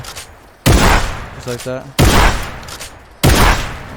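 Three loud, close shotgun blasts from the Fortnite video game ring out at a steady spacing of a bit over a second apart, each with a short decaying tail, with a voice talking briefly in between.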